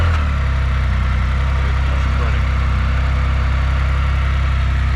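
A Can-Am Spyder F3 three-wheel motorcycle engine runs at a steady, loud idle throughout, a low constant rumble with no revving, close by.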